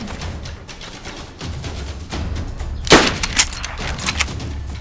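Winchester rifle fire in DayZ, a sharp near crack near the middle followed by a few lighter distant pops over a steady ambient game wash, no talk.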